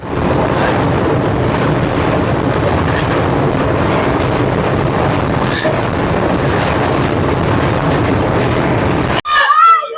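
Inside the Ahmedabad–Howrah Superfast Express, a loud, continuous rumble of the running train fills the clip, with a rhythmic clatter of wheels on rail, ending in a brief break and a short tonal sound.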